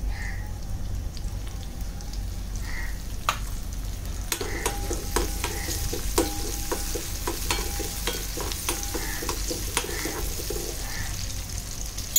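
Onion, crushed garlic, green chili and tomato fry in hot oil with a steady close sizzle, broken by repeated scraping and stirring sounds from a spoon in the pan.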